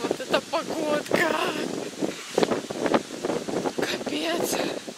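Strong wind on a cold outdoor day blusters against the microphone in gusty, rushing bursts, heard up close under a person talking throughout.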